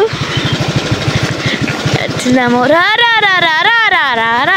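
A motorcycle passes along a rural road beside paddy fields, its engine rising with a revving, pitch-shifting whine that grows louder and near as it goes by.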